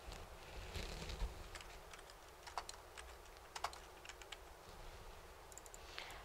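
A computer keyboard typed on at a close, quiet level, giving an irregular run of light clicks and taps over a faint background hush.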